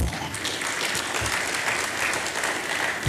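A crowd applauds at the Ghana Club 100 awards ceremony after a Deputy Finance Minister's remark, with dense, steady clapping from a large audience throughout.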